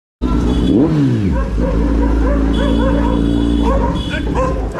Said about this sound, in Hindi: यहाँ पे वही कुत्ता है जिसने मुझे काटा था